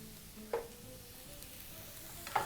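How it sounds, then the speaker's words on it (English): Garlic fries in a pan on the stove while being tossed, a low steady sizzle with two sharper clinks of stirring, close and quiet. "Proceed to add your garlic to the pan and toss once more"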